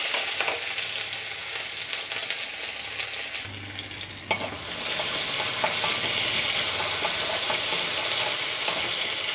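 Ingredients for a quick tomato rasam fry loudly in a pan with a bright, crackling sizzle. A utensil clinks and scrapes as the mixture is stirred, and the sizzle swells again afterwards.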